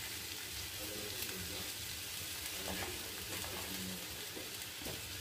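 Mashed boiled potatoes sizzle steadily in a frying pan, a dense continuous hiss with faint occasional scrapes of stirring underneath.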